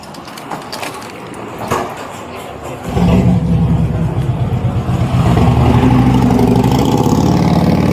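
Quiet clatter gives way to a loud motorcycle engine idling and revving close by, a steady throbbing roar that grows louder.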